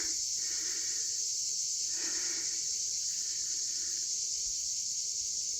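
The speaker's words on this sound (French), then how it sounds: "Et les cigales, ça rend vraiment bien." Cicadas in the vegetation along a hilly walking route near Arles buzz as a loud, unbroken high-pitched drone that fills the whole stretch, with no voices.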